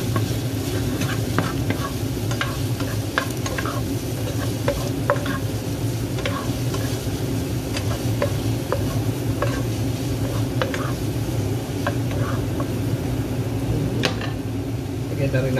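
Chili oil sizzling as it is stirred into a seafood spaghetti sauce in a pan, a steady close frying crackle with scattered clicks of utensils, while someone talks over it.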